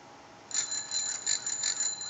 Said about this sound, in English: Ring your bells.